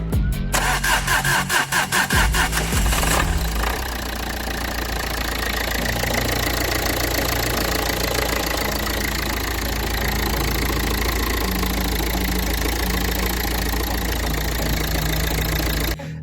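A used car engine cranks for a few seconds with rapid rhythmic starter pulses, catches, and settles into a steady, slightly knocking idle, heard close and alone.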